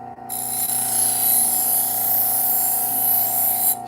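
A leather polishing wheel spins at a steady, high-pitched whine with a tonal hum while taking the burr off a freshly sharpened knife edge, close and continuous for a few seconds.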